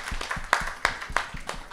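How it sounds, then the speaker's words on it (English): A conference audience claps in a short burst: a few distinct, fairly close hand claps with uneven rhythm rather than full sustained applause, with no talking over it. "Can everybody give a clap for each one of us?"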